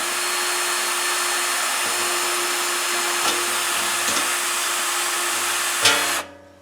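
An Astro ADN14 nutsert tool runs in reverse with a steady, loud motor whir close by, marked by a few faint clicks, before the motor cuts off abruptly at the end; no speech.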